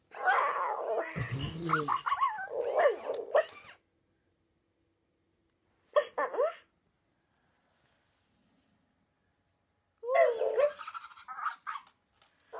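Bursts of high, squeaky whining and yelping noises from a Present Pets interactive toy puppy, separated by pauses of silence, close and fairly loud.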